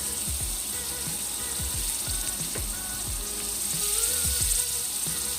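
Onion and garlic fry in a pan with a soft, steady sizzle, while intermittent low knocks and scraping clatter from the cookware sound close by.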